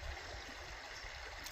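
A Kentucky creek flows with a faint, steady rushing and gurgling of water, soft and continuous with no other sounds over it.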